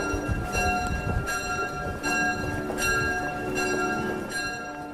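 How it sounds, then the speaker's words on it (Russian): Church bells ring repeatedly in a steady rhythm, their tones hanging and overlapping, with a busy ambient murmur underneath. "на звонницах храмов ударили колокола."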